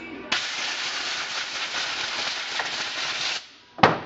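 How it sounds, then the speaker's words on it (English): Compressed air blasts across parts from an MG overdrive unit, cleaning off swarf after carburetor cleaner. A loud steady hiss runs for about three seconds, stops, then a short second burst starts near the end. "I love compressed air."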